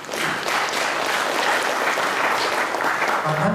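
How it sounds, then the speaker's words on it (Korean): An audience at an academic policy forum claps warmly and steadily to welcome the next presenter, a dense continuous burst of applause that holds at an even level throughout the short stretch. "큰 박수를 부탁드리겠습니다."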